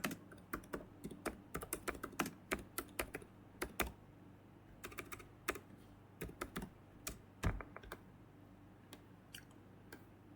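Rapid clicks of typing on a computer keyboard, irregular bursts of close, crisp keystrokes coming in quick runs with short pauses, quiet overall and without any talking.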